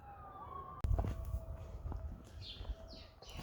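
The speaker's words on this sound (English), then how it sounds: "sirens everywhere" Distant emergency vehicle sirens wail faintly around a farm near a golf course, their sweeping tone mixed with a sharp knock, low rumble and chirping birds.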